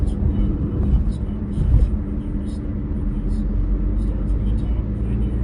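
Steady low rumble of road and engine noise inside a moving car, constant and close, running under a voice as he talks while driving.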